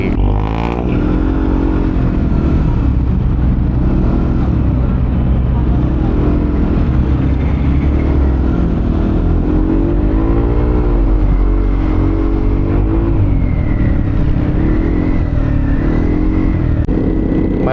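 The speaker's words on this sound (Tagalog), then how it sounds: "Traffic." Busy road traffic with motorcycles and cars, a continuous loud engine rumble with revving swells throughout, likely heard from a moving Yamaha Aerox scooter in congested Philippine streets, with a voice talking over it.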